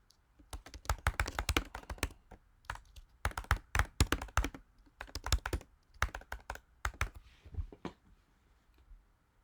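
Bursts of quick typing on a computer keyboard, close and clear, with short pauses between runs of keystrokes.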